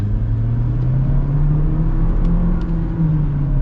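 The turbocharged engine of a 2024 GMC Terrain AT4 accelerates with a low, steady rumble rising gradually in pitch, heard from inside the cabin with no talking.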